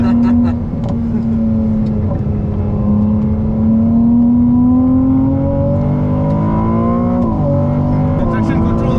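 A Ferrari 296 GTB engine revs hard from inside the car, its tone climbing smoothly, dropping briefly at a shift, then rising again, with people talking over it.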